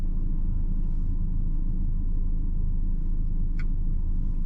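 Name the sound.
car engine idling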